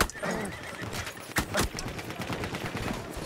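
Horse in the Battlefield 1 video game whinnying loudly up close over steady clip-clop of galloping hooves, with distant gunfire cracking in the background.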